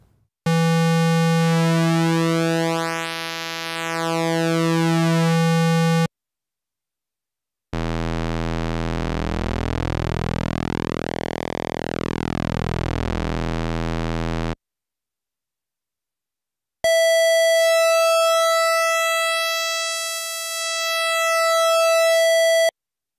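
Square wave from a Korg Monologue oscillator, played as three long held notes whose pulse width sweeps slowly, giving a shifting buzzy timbre, with silence between notes.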